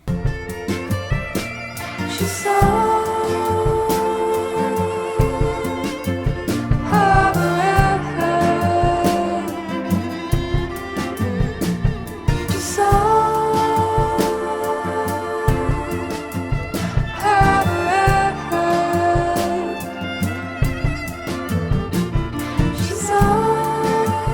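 Dense, continuous music with stacked synthetic vocal harmonies carrying a robotic, buzzy vocoder tone over a steady backing, no pauses throughout, the vocoder fed through an Analog Alien EPi pedal interface.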